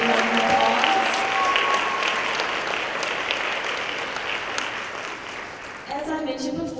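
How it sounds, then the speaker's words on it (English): An audience at a science and engineering awards ceremony applauds for overall placement winners. The clapping is dense and sustained, slowly fading toward the end before a few voices come in. "Let's give all our overall placement winners a big round of applause."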